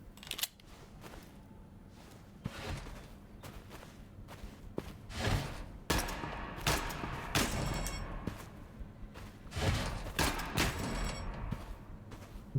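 Gunfire in the Gunsmith Simulator video game: scattered sharp shots and bursts, some in quick clusters, over a low game background, moderately loud with occasional thumps and no talk.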